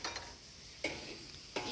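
Ginger, garlic and red chili paste sautés in a pan with a low steady sizzle, broken by a few sharp scrapes of a spoon against the pan, faint and close, no talking.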